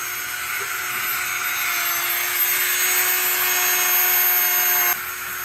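A Dremel rotary tool whines steadily at high pitch while working a titanium ring, the tone rising slightly before the tool cuts off near the end.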